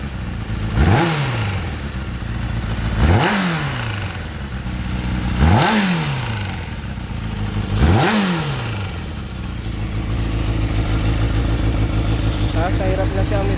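A Suzuki Bandit 400 motorcycle engine with a troubleshooting fault runs close by. It revs sharply four times in a steady rhythm, each blip falling back to a rough idle that then settles into a continuous running note.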